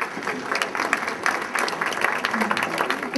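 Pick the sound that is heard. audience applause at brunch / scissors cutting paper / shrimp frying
audience applause at brunch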